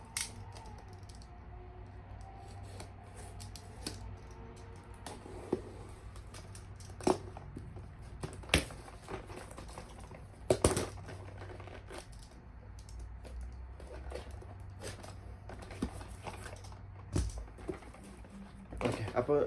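Packaging for a 2023 Fast and Furious series 2 toy car set gets unboxed. Sporadic crinkles, clicks and soft taps are faint and close, with quiet talking underneath.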